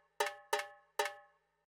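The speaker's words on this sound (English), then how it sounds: "So the first thing we have here is this tabla." Tabla sample in a percussion layer for a future beat: three sharp, ringing metallic-toned hits in an uneven rhythm, each decaying quickly, clean and isolated.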